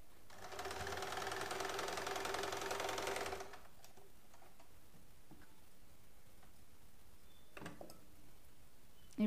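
A sewing machine stitches the shoulder seam of a child's frock in one steady, close run of rapid needle ticks lasting about three seconds, then stops, leaving quiet room tone with a few faint handling clicks.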